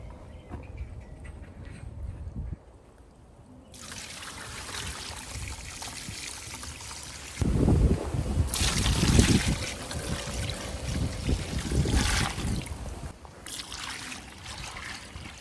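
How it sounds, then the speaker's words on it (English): Water pours and splashes steadily into a container, growing louder and fuller partway through, with a low trickle before it. No one speaks. "I'll pour that water right down in that bucket."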